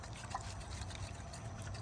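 Faint water sloshing and trickling inside the flooded fuel injection control module of a diesel mud truck, a soft continuous liquid movement with a brief brighter splash near the start.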